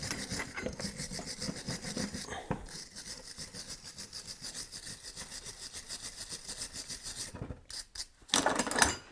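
Rusty thread on a flail mower being scrubbed clean, a quiet, steady rapid brushing rasp that continues throughout, with a louder scraping burst near the end and no talk.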